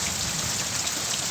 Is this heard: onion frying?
no